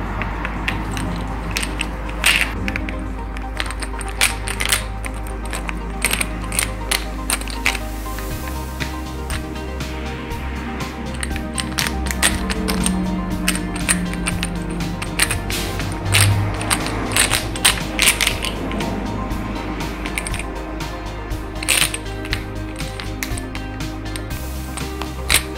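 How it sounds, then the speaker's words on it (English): A Phillips screwdriver backs out the screws of a main door lock, giving a close, steady run of small ratcheting clicks and metallic scraping that continues for the whole stretch without speech. "using the Phillips screwdriver, unscrew these."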